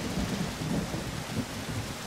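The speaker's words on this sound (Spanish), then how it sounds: "Bendita lluvia. Necesito agua de lluvia." Steady rainfall with low rumbling thunder in a jungle survival video game, a constant wash of rain over rolling, distant-sounding thunder with no talk.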